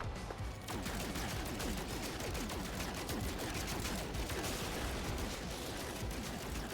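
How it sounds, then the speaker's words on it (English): Rapid gunfire in No Man's Sky aimed at the player's own ship, a continuous dense stream of crackling shots with mechanical clatter, loud and unbroken throughout. "I'm firing at my own ship actually at the moment"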